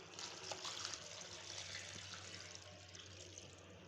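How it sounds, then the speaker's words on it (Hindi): Water is poured into a pot of beef stew, a steady, faint splashing trickle that runs continuously for a few seconds with no talking. "पानी शामिल करेंगे इसे गलाने के लिए।"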